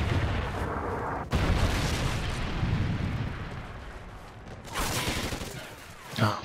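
Trinity rockets striking in Call of Duty Ghosts online multiplayer: heavy, roaring blasts fill the opening, a sharp new impact hits near the one-second mark, then rumbling fades before two more bursts surge late, loud and close.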